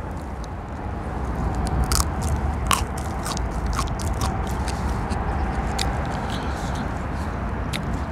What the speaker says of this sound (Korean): 자, 한번 씹어보겠습니다